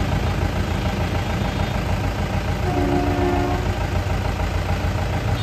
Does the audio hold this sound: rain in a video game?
no